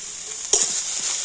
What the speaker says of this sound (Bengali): হলুদ আর লবণ দিয়ে বেট করা ফুলকপিটা ভালো করে নাড়াচাড়া করে নেব